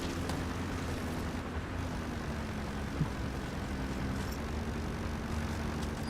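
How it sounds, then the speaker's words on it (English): A helicopter lands in a stealth-mission video game, its rotor and engine producing a steady, loud droning rumble that continues evenly from start to finish, with no talk. "There's a chopper landing."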